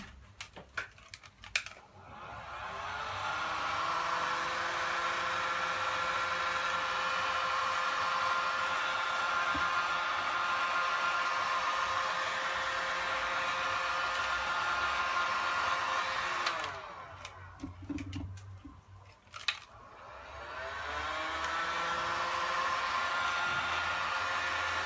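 A hair dryer blows steadily on a handmade craft coffee capsule holder, a loud continuous whoosh lasting most of the stretch, briefly stopping and restarting near the end, with no speech.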